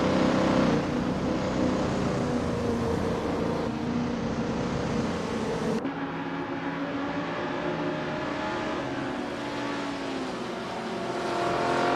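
Several racing cars in a video game pull away from the starting grid together, a dense, steady roar of engines sustained throughout, with a brief shift partway through as the pack accelerates.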